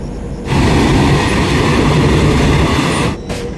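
An all-AC express train on the Kolkata to Puri route rumbles steadily along the rails, a loud, close, continuous roar that starts abruptly after a brief quiet moment and eases slightly near the end.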